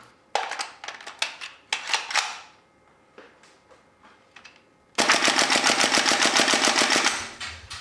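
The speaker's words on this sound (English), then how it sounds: "the sound of the steel bolt and the steel hammer that you install with it, they really elevate the realism of the sound as well" A GHK AK74 gas blowback airsoft rifle with steel bolt and hammer fires several separate sharp shots and short bursts, then one long rapid automatic burst of metallic clacks, close and loud with no voices.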